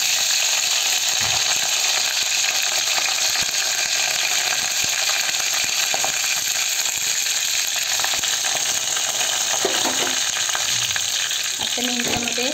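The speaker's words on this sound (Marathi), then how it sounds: "छान असं तडतडू द्यायचं आहे आणि मग घालायचं कढीपत्ता।" Mustard seeds, cumin and curry leaves, with garlic, crackle and sizzle loudly in hot oil, a dense continuous spattering hiss, with a few faint spoon clinks near the end.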